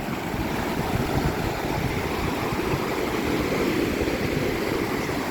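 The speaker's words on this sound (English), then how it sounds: "here's another wave coming in" Ocean waves wash steadily onto a beach near the Phare des Baleines lighthouse on Île de Ré, a loud, continuous rushing surge with no voices.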